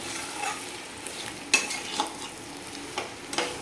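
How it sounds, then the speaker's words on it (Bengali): Mutton pieces sautéing in a pan for a mutton curry, a steady sizzle with stirring scrapes and occasional clinks, close and fairly loud, with no voices. "মাংসগুলো অলমোস্ট সাতলানো হয়ে গেছে"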